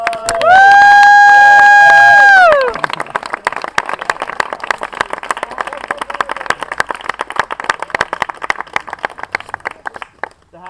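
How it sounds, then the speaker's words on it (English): Audience applause at a tracker school gathering, where a loud sustained tonal squeal opens before scattered, crisp clapping from the crowd takes over and continues at a moderate level. "please give them a round of applause"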